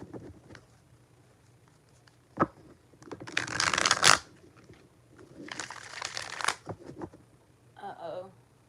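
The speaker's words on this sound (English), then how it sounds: "All right, 4 more shuffles." Tarot cards being shuffled by hand in two long riffling bursts, crisp and close, with soft handling clicks between and a brief voice near the end.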